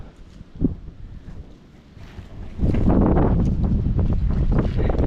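Wind blows outdoors on a walk with a dog named Millie, starting as a light rustle and then turning into strong, steady buffeting that roars across the microphone for the rest of the clip.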